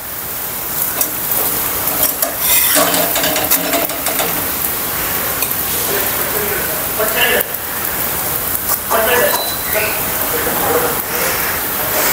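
Drumstick leaf paratha roasting on a hot pan in oil or ghee, a steady crackling sizzle running throughout while someone talks over it.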